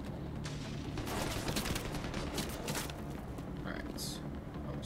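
Gunfire in The Division 2 on Legendary difficulty, headshots staggering enemies: a dense run of sharp shots over a constant rumble of game noise, with talk at points.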